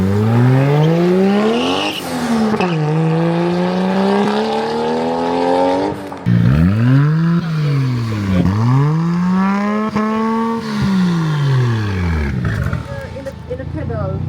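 Drift car engine revving hard at launch during drag testing, close and loud, rising and falling in repeated sweeping revs that hold near the limit, with voices talking over it throughout.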